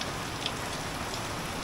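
Heavy rain pouring down in a steady, dense hiss of drops drumming on surfaces. It is loud and unbroken throughout, with no one speaking.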